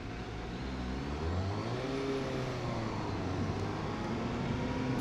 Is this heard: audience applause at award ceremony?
no